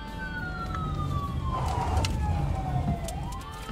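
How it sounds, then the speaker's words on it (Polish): A police siren in the video game This is the Police 2 wails in a sliding tone over road and engine noise, steady and fairly loud, with no talking. "Włącz syrenę."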